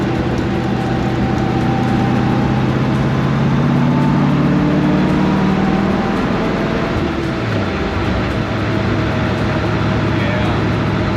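A car pulls away and accelerates hard along a straight stretch, engine note rising steadily and loud throughout with a smooth driveline, heard from inside with people talking over it.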